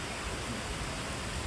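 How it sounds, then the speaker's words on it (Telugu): Heavy rain pours steadily in Vijayawada after wind and clouds roll in, a dense, even hiss with no pauses and no voices. "గాలులు వీచాయి, మేఘం పట్టింది, వర్షం పడింది."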